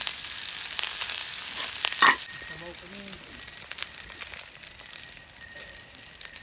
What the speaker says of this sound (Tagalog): Then brown na yung ano natin, mga bawang, onion at lagyan na natin yung ating tirang kanin.